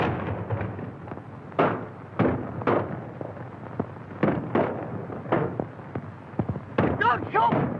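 Sharp gunshots crack through a 1931 adventure film scene, a dozen or more irregular bursts spread across the stretch, loud and close, with shouted voices mixed among them.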